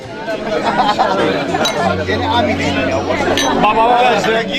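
Glasses clink in a toast at an engagement party, with bright, repeated chinks ringing over steady crowd chatter and festive music throughout.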